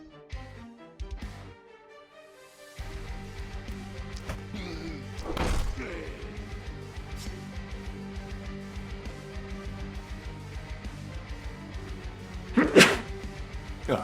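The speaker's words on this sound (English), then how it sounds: "A little bit of a sneeze snuck up on me." A single sharp sneeze bursts out partway through, a short loud burst over quiet game music with soft thuds around it.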